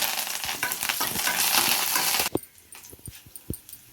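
Chana dal, urad dal, mustard seeds, garlic and curry leaves crackle and sizzle in hot oil, a loud dense frying hiss that drops away suddenly, leaving scattered knocks and clinks of stirring in a pan.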